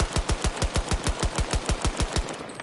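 A 1911 pistol fires in a video game, a rapid, evenly spaced string of about fifteen loud sharp shots with no voices.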